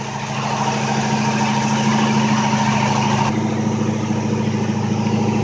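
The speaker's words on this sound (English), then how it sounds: "So I'll give the throttle inside a kick now, and it should drop down a few up, or probably 500 RPM or so." A V8 engine in an MG Magnette coupe runs steady and loud, its low harmonic drone holding through a brief throttle stab, then dropping to a slightly lower, settled idle after about three seconds; no one speaks.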